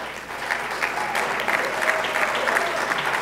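An audience at a city town hall meeting applauds steadily, a continuous wash of many hands clapping in a large room, even in level throughout.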